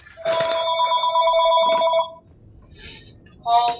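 A phone rings in the video game Mass Effect 3 during a Mars mission: two bright electronic trill bursts, a short gap, then a third ring beginning at the end.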